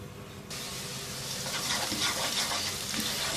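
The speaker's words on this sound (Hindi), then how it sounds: "सिर्फ इतनी देर प्याज को पकाना है कि ये थोड़ा सा नरम पड़ जाए।" Onions, two medium ones, cook in oil in a pot over medium heat, a sizzle bursting in suddenly and then building into a steady crackling fry, close and fairly loud without talk.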